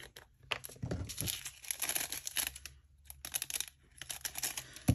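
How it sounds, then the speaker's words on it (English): Dull scissors cutting through plastic packaging while kitting up diamond painting supplies, a series of close, crinkly snips and crunches in short irregular bursts with quiet pauses between. "Definitely need to sharpen my scissors."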